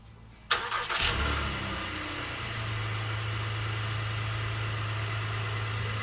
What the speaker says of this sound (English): if you hold down on the lock button and the hold button, it's gonna blink on your remote and the vehicle will start.